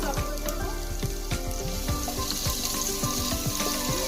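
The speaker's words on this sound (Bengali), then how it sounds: "এখন রসুন কুচিটাকে হালকা ভাজা পর্যন্ত অপেক্ষা করব।" Chopped garlic sizzles and fries steadily in hot oil, with crackling pops and occasional stirring scrapes throughout, close and continuous without talk.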